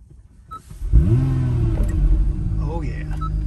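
An Acura NSX engine cranks and fires up, then settles into a deep rumbling idle with a couple of brief revs, heard from inside the car while a voice talks briefly over it.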